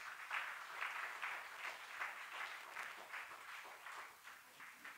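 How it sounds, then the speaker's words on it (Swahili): A church congregation claps for the pastor at a Sunday service, a faint, somewhat distant round of applause in loose rhythmic waves. "Tumpigie mchungaji makofi mazuri."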